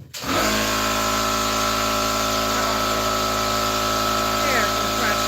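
An air compressor starts up in a workshop, rising at once into a loud, steady motor drone with a constant hum that runs close by through the rest of the stretch.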